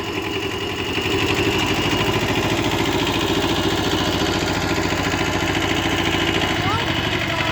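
Kubota B5001 tractor engine running while tilling with a rotary tiller, a steady low rhythmic chugging close by, with people talking over it.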